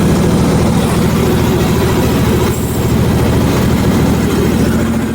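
A steady, loud engine drone with low rumbling harmonics from an engine-powered lifting bale raising a load of beaver-killed birch, running continuously and close without any talk.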